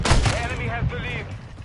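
Gunfire in Modern Warfare 2, a few quick heavy bursts of shots in the first second, with a voice speaking over the firing.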